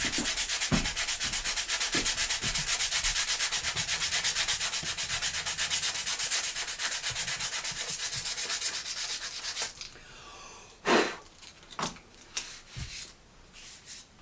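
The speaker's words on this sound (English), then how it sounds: "I'm going to go down to the 120 grit, and I'm just going to finish the sanding." Steady rhythmic rubbing of 120 grit sandpaper over a cork fishing rod grip, close and continuous, then stopping into a few scattered handling knocks and scrapes.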